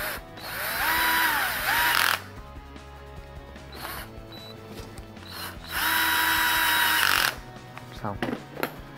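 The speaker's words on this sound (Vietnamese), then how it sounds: "Các bạn có dùng khoan pin rất là tiện này, tháo lóc cũng dễ, nhanh." Cordless drill taking apart a Bosch concrete hammer drill, whirring in two loud bursts with rising and falling pitch, separated by quieter clicks and handling noises, and a short ratcheting sound near the end.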